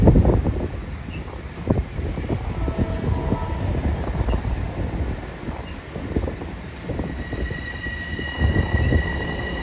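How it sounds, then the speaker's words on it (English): An Amtrak train pulls into Croton Harmon station, its loud rumble and rattling wheels continuous and close, with occasional squeals from the rails. "Oh, here comes Amtrak."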